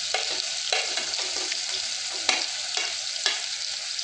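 Green chillies, tomatoes, spring onions and peas frying in a pan for cabbage curry, a steady loud sizzle broken by regular scraping stirs of a spoon, close up.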